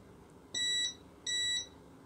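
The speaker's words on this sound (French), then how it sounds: "Quand ça touche le Z, c'est pas mal, ça bip." Two clear electronic beeps from a Creality LD-002R resin 3D printer as its Z axis homes, each about a third of a second long with a short gap between, loud and alone over faint background hiss.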